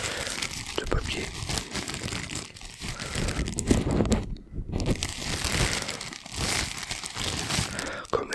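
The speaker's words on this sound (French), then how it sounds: "On va faire un peu de froissement" Continuous close-up crinkling and crumpling of paper, rustling and crackling in irregular bursts right against a Maono DM30RGB USB microphone.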